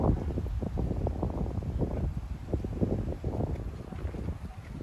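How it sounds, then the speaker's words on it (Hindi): Cold wind blows across open farmland near Shamshabad, buffeting the microphone in rough, uneven gusts that rise and fall throughout, loud and close with no voices. "एकदम मस्त ठंडी हवा चल रही"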